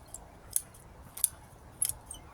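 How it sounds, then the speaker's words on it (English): Scissors snipping yew tree foliage, three or four sharp close metallic snips at irregular intervals against a quiet outdoor background. "Just go around with a good pair of scissors"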